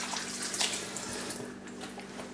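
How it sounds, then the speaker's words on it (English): A kitchen tap runs steadily while hands are washed under it, a soft continuous splash with slight variations, quiet and close, against a faint electrical hum. "Wash my hands."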